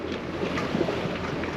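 Sailboat motoring under engine through the Strait of Messina in near-calm wind, a steady low rumble with water wash and wind buffeting on the microphone, continuous and fairly close.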